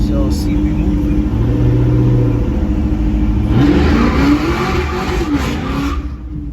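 A 1985 El Camino engine rumbles loud and close while driving, holding a steady drone before rising into a revving surge partway through, with people talking over it.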